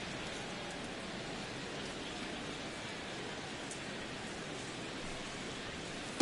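Steady rain falling over a baseball stadium in a video game, an even, hissing wash of drops that holds at a constant level throughout, with a brief bump at the very end.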